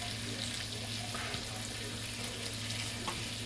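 Asparagus sizzles in butter and olive oil in a pan, a steady, soft frying hiss that continues evenly throughout with faint clinks, close and quiet.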